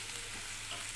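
Mutton curry being stirred in a pan, village style, a steady soft sizzle with faint scraping that stays even and close throughout, with no voices.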